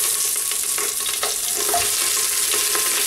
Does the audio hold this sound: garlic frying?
yes